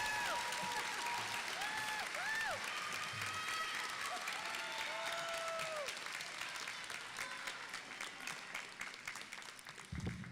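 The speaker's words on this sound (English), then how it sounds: "Now you can clap, by the way." Sustained applause from a large audience at a graduation ceremony, dense clapping that slowly thins out toward the end, with a few faint whoops mixed in.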